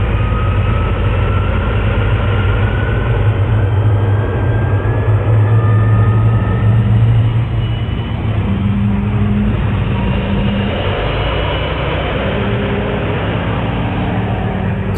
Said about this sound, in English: I'm going to see if the thrust from the jet engine will push me.